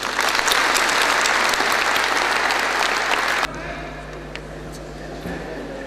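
Dense applause from a graduation ceremony audience in Sydney fills a large hall, loud and sustained for a few seconds before cutting to a quieter room tone.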